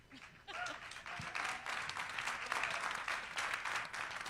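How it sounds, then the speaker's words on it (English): An audience at an Oklahoma town hall applauds after a presenter is honoured, sustained clapping from a sizeable crowd that starts abruptly and holds steady, with faint voices under it. "Please give a round of applause to Sandra Valentine"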